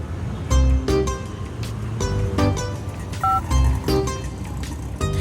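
A series of short electronic keypad tones sounds in an uneven sequence of about ten beeps, each brief and clear over faint background noise.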